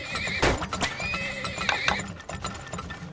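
Horses in the video game Turmoil whinny in a few sharp, loud bursts, with hooves clip-clopping and faint mechanical clicks running underneath and no talking.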